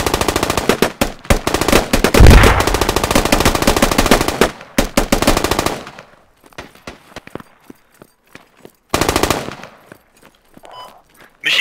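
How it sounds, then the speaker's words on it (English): Sustained machine-gun covering fire rattles in rapid bursts during a Squad firefight, dense and loud for several seconds, then thinning into scattered distant shots before another burst returns. "Machine gun, keep on covering fire."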